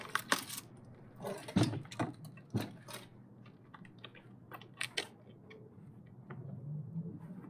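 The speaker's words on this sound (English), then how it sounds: "Take our scissors." Scissors cut a filter sheet for a DIY greywater planter filter, heard as quiet, close, irregular snips and clicks with short pauses between them.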